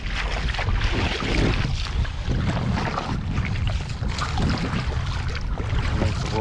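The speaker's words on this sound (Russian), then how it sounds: "Ага, ветер." Wind roars steadily over a small boat crossing a river to the far shore, with a loud, continuous broadband rush and buffeting that masks any other sound.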